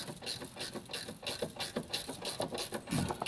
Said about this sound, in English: That is a ratchet wrench right there. It's got the little ratchet piece, so it makes that sound.